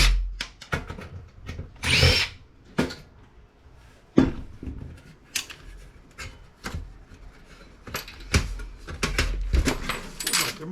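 Power drill backing screws out of a Tripp-Lite server switch casing during scrapping, with loud close whirring bursts mixed with clanks, knocks and handling of metal parts.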